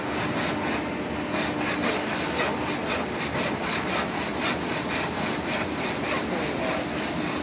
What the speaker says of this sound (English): Okay, so now we're going to cut the actual dovetail shape.